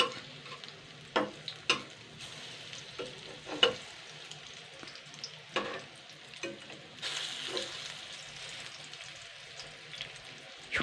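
Spinach and egg fritters fry in a pan, a soft sizzle broken by sharp clinks and scrapes as the utensil turns them over, with a louder hiss toward the end.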